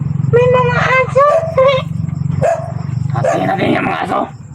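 Several dogs bark repeatedly nearby in short, loud volleys, with a tense pause between bursts and a final flurry of overlapping barks.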